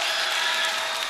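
A crowd at a basketball game, a professional league finals, cheering and applauding: a dense, steady roar of claps and voices with no gaps, heard throughout this very short moment.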